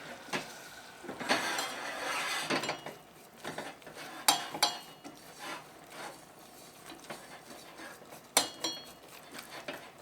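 A whisk scrapes and clinks around a cooking pot as a third of a cup of flour is worked into melted butter, an uneven run of metallic rubbing and taps, close and quiet, with no talking.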